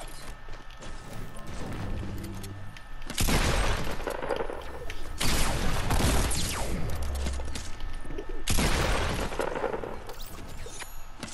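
Bursts of rapid gunfire in a Fortnite match, three loud dense volleys of several seconds each over a constant game background, close and prominent with no talk.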